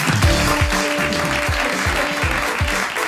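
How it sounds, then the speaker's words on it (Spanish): Loud, close studio audience applause at a comedy show, a dense burst of clapping with a rhythmic pulse running steadily to the end. "Se ha aplaudido porque hace gracia"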